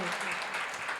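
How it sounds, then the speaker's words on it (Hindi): Congregation at a Jain religious sermon breaks into brief, loud applause, a dense burst of many hands clapping lasting about a second. "एक बार जोरदार तालियां बजा के"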